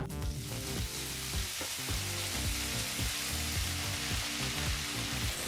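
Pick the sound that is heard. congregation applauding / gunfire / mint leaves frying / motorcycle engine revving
mint leaves frying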